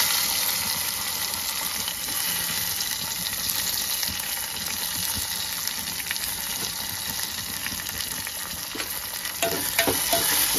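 Cumin, garlic, curry leaves and tomato frying in a pan give a steady, close hiss and sizzle with faint stirring scrapes, fairly quiet and even throughout, with no speech.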